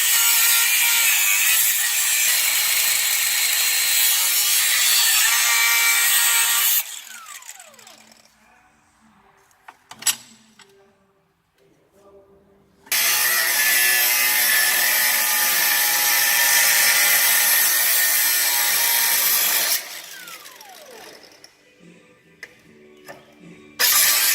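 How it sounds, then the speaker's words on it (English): A handheld battery grinder cuts through a front coil spring on a 2006 Fiat Punto, giving loud, steady high-pitched bursts of about seven seconds each, separated by quieter pauses with light clanks. "Handheld battery grinder."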